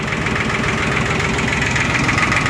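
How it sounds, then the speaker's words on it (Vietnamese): Three-cylinder Yanmar YM1610 Japanese tractor engine idling up close, a steady loud chugging rumble with even mechanical knocking and no pause. "Đây động cơ đang hoạt động"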